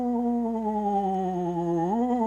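A voice imitates a ghost with a sustained wavering 'ooh' tone held for about two seconds, then sliding upward at the end, close and alone.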